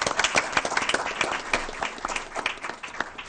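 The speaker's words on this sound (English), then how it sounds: "Let's give them a round of applause." Audience at a school board meeting applauding to congratulate elementary and high school staff and students, a crowded patter of clapping with sharper individual claps standing out, continuous and moderately loud.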